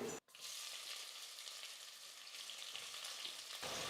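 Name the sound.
sliced onions frying in a pan with whole spices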